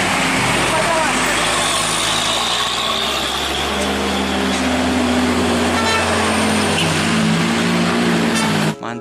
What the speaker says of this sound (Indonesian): Wah, ada truk towing,